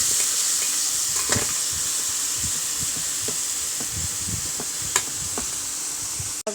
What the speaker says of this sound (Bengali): সবজিটা ছেড়ে দিলাম, পেঁয়াজ দিব না, ডাইরেক্টলি বসায় দিলাম।